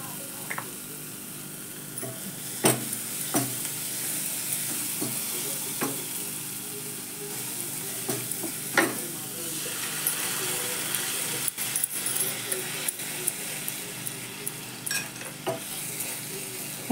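Masoor dal amti simmers with turmeric and salt in a pot, a steady bubbling sizzle broken by scattered clinks and scrapes of a spoon stirring, close and moderately quiet.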